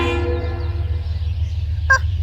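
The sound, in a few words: train passing by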